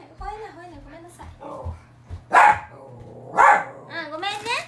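An indoor dog barks twice in loud, sharp bursts while someone talks soothingly around the barks.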